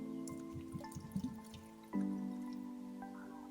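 Cold water is poured over peeled bush orange pieces before crushing them for juice, a faint trickle with a few soft drips and a ringing tonal edge, quiet and close with no talk.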